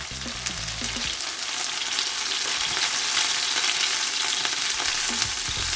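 Diced chicken pieces frying in a pan for teriyaki, a steady loud sizzle and crackle throughout with a brief utensil clatter near the start, no voices.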